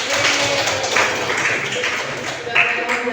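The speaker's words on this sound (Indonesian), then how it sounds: "Tepuk tangan untuk Andi." A classroom of students applauds a classmate, dense overlapping claps filling the room at a fairly loud level, with voices mixed in underneath.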